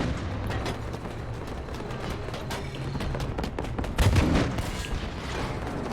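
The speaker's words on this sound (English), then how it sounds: "Oh, they're shooting me." Continuous battlefield gunfire aimed at the player in Battlefield V, dense overlapping shots and booms forming a steady loud wall of combat noise with a heavier blast near the end.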